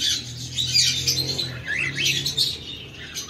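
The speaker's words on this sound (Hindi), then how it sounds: "ये भी सारे लव बर्ड है, इसमें स्टेबल है, डाइल्यूट है, माऊ है, सारे अवेलेबल है" Lovebirds and cockatiels in a pet shop keep up a busy stream of overlapping chirps and tweets, with a low steady hum running underneath.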